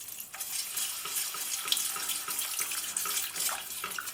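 Liquid pours into a pan of sauce on low heat while it is stirred, giving a continuous close splashing, trickling wash with small clinks and no voices.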